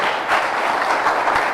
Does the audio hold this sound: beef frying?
no